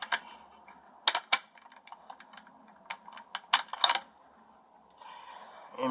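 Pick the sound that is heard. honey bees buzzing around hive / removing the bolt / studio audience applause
removing the bolt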